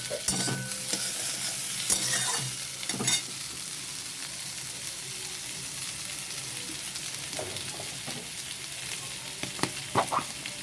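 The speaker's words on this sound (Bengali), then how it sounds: "একটু আলুগুলো পেঁয়াজের সাথে ভেজে নেব।" Boiled potatoes frying with onions in a pan give a steady broad sizzle, with sharper scraping stir strokes near the start and occasional clinks toward the end. No one speaks.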